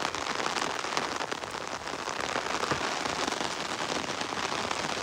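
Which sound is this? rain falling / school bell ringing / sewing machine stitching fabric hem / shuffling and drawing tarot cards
rain falling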